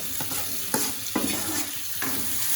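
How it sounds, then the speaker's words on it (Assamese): Chopped tomatoes added to reddened fried onions and stirred in a hot pan: loud sizzling with several sharp scraping strokes of a spatula, close up and continuous. "বিলাহীখিনি ধুনীয়াকৈ অলপ লৰাই লৈ"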